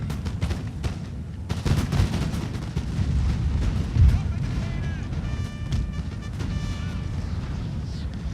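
Skirmishers fire musket volleys in the video game 1805 European Campaign, a dense crackle of overlapping shots with a couple of heavier thuds, under a steady layer of voices and short tonal game cues toward the end.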